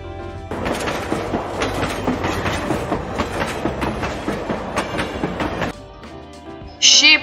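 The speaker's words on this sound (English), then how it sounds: "Train." A train rumbles past with steady clickety-clack of wheels over rail joints for several seconds, then fades to quieter background before a brief voice.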